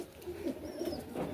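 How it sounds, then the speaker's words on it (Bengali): Pigeons in a pigeon loft giving low, soft coos, several short rolling calls close by with no talk. "এগুলা আমাদের সোহেল ভাইয়ের কবুতর, সোহেল ভাইয়ের লফট, সোহেল পিজন লফট।"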